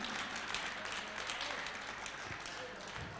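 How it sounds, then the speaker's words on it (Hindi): Applause from an audience welcoming the Jahazpur hosts at a religious gathering fills the room as dense, continuous clapping, with a voice speaking over it. "एक बार हमारे जहाजपुर वालों के लिए जोरदार ताली बजा के सबका स्वागत कीजिए"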